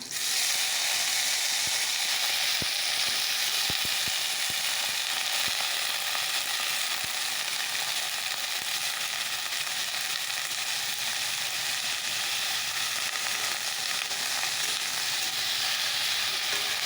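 Ridge gourd frying in a pan at home, a steady dense sizzle that holds loud and close throughout, with a few faint clicks and no talk.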